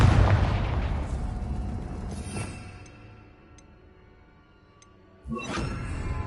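A Confringo spell explosion in Hogwarts Legacy: a heavy booming blast that rumbles and fades over a few seconds, followed by a second sharp burst, with no talking.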